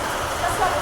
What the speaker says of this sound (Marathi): बाहेर तुम्ही आवाज ऐकू शकताय पावसाचा कसा पाऊस पडायला लागलाय तो